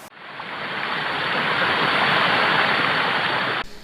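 Curug Melaco waterfall in Tabar Manik village, Musi Rawas, in the Bukit Barisan range, roars in a dense, continuous rush of falling water that swells and holds steady before cutting off.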